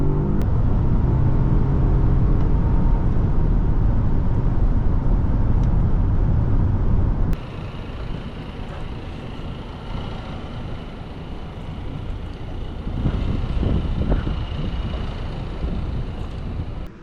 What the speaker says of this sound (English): Today we're driving a 2024 Volvo XC90T Recharge on our channel.